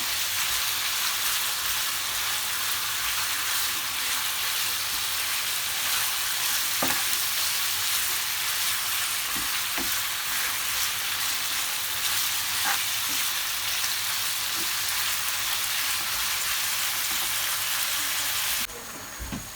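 Peppered pot lamb sizzles steadily over an open fire, a dense continuous frying hiss broken by occasional scrapes and taps as it is stirred.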